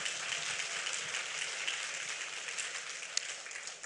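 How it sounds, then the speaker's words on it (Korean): A church congregation at a Friday worship service applauds, a steady wash of many hands clapping heard from a distance, soft and even throughout with one sharper clap near the end. "오늘 이 믿음을 가진 분들은 하늘에 박수를 영광 돌리시기 바랍니다"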